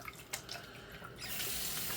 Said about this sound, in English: we'll dump this water out.